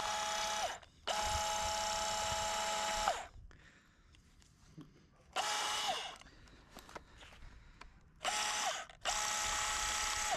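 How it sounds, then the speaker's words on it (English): A power drill bores into a concrete block wall in three long bursts, each a loud, steady whine followed by quieter pauses with faint handling noises. "I'm going to start off with the drill and just see how strong that is"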